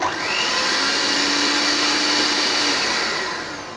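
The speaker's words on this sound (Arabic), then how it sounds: "غنطربها هكا مزيان حتى تطلع وغادي نرجع" Electric mixer whipping a water-based ice cream mixture, a steady loud whirring drone that runs unbroken for nearly four seconds and eases off slightly at the end, with no voices.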